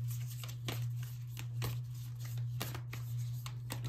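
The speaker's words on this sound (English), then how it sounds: "let me go ahead and shuffle these a little bit more." A deck of oracle cards is shuffled by hand in a series of soft, irregular riffling bursts. The sound is faint and close, over a steady low hum, with no speech.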